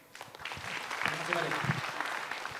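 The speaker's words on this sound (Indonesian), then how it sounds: "beri tepuk tangan sekali lagi untuk Eza dan juga Mukmin" An audience at an Indonesian stand-up comedy show claps in a short burst of applause that swells and then fades. A voice speaks over it.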